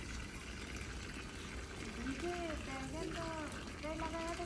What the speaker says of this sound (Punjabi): ਨਿੰਬੂ ਦੇ ਵਿੱਚ ਵੀ ਪਾ ਦੇ ਹੁਣ ਪਾਲੇ ਬੂਟਿਆਂ 'ਚ ਵੀ ਪਾ ਦੇ ਪਾਣੀ